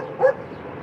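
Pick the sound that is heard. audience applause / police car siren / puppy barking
puppy barking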